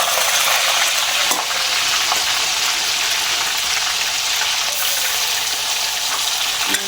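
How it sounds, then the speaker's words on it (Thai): Pieces of giant Mekong catfish frying in boiling oil over a charcoal or wood stove, a dense, continuous hiss and crackle of sizzling that holds steady and close throughout, with no talking. "เอาปลาลงจ้าวันนี้น้ำมันเดือดแล้ว"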